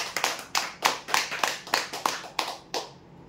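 A small audience claps for a prize winner at a lucky draw event, about ten distinct, close claps in an uneven rhythm that stop abruptly and leave quiet room tone.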